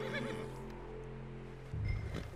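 Horse in Red Dead Redemption II whinnies amid steady game ambience, a sustained tonal cry over a low hum, with a louder thump near the end.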